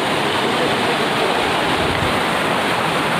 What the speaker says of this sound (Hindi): ये भी एक वाटरफॉल है,